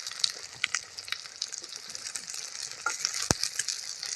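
Brinjal pieces fry in hot oil for a Tamil oil brinjal curry, a close crackling sizzle with scattered pops and the scrape of stirring, steady and moderately quiet with no talking.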